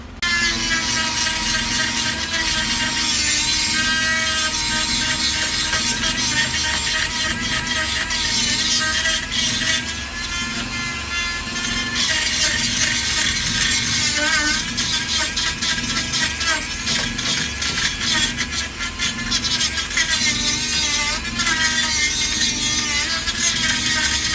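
A power tool with a metal bit grinds continuously against the passenger-side outer pillar of a Honda CRX car body. The whine stays loud and steady for the whole stretch with small shifts in pitch.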